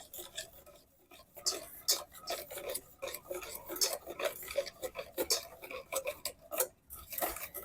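A whisk clinks and scrapes against a bowl as warm peach ice cream custard is slowly tempered into a cold base, with quiet irregular metallic taps and stirring throughout.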